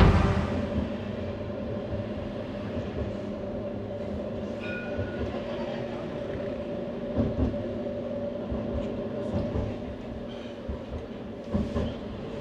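An Edinburgh tram rides toward St Andrew Square with a steady low rumble and hum, scattered wheel clatter and occasional rattles heard from inside the car throughout, with no talking.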